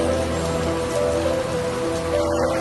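Rain falls steadily on surfaces in Islamabad, a dense continuous patter of drops at an even level with no voices.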